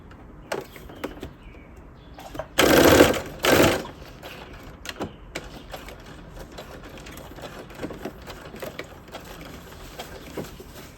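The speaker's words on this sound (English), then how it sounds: "you're going to attach them at the side seams using a 1/2 inch seam allowance stitch" Sewing machine stitching the side seams of a top's bodice and lining, two short loud bursts of rapid stitching near the start, then quieter handling clicks and rustles.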